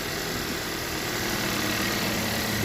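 A car engine idling right after an oil change, a steady, even mid-to-low hum with constant vibration, close and unbroken, with no talk over it.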